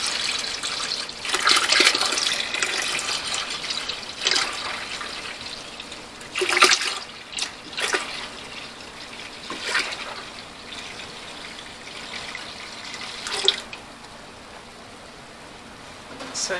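Hard apple cider mixture is poured into carboys with a trickling, splashing liquid sound at moderate level, in uneven bursts and brief surges.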